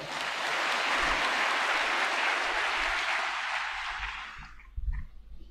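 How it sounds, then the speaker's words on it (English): Sustained applause from the audience at a military pipping and commissioning ceremony, honoring the guest of honor, broad and steady for about four seconds before fading, with a few low thumps at the end. "May we please give the special guest of honor a round of applause?"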